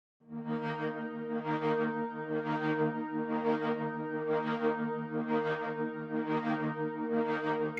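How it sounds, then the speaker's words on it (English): Orchestral plugin preset called Gestures, a sustained tonal texture swelling in a steady pulsing rhythm about once per second, as if panning side to side; no voices. "This is a preset called Gestures"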